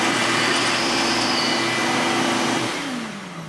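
A surface grinder spindle runs from a VFD under a DDCSV 2.1 CNC controller, giving a loud, steady motor whine that holds level, then drops in pitch as it spins down near the end.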